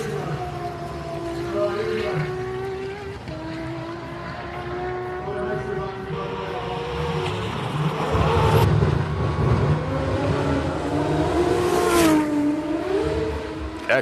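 Race car on a hill climb course, a space-frame car wearing a GT-R-style body, its engine note rising and falling through gear changes and sweeping past at a distance, with commentary voices talking over it.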